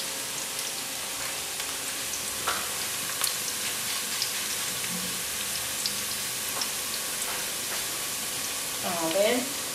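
Beef sizzling in a frying pan for a beef and potato stew, a steady close crackle with scattered pops and a brief stirring scrape near the end.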